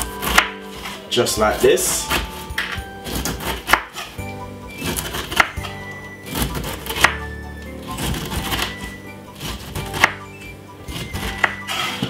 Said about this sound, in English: Use your knife, be careful, and remove the skin